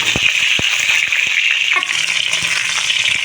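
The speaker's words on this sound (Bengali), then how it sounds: "পটলগুলো আমি খুব ভালো করে ভেজে নেব" Pointed gourd (potol) pieces frying in hot oil in a kadai, a steady bright sizzle running throughout with a few sharp clinks from a utensil, close and fairly loud, no one talking.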